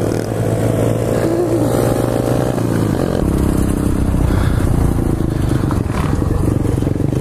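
Pit bike motorcycle engines racing through the woods, a loud close buzzing engine revving and shifting pitch continuously, with clattering over rough ground.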